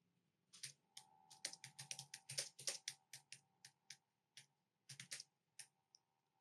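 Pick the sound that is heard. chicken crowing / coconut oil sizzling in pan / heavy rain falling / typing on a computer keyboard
typing on a computer keyboard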